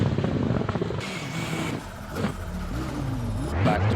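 A rally car drives a gravel stage on round 4 of the Eastern European Rally Championship, its engine revving and changing pitch close by with a continuous rough rumble of gravel and tyre noise.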